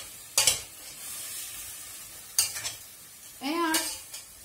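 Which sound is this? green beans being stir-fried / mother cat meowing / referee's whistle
green beans being stir-fried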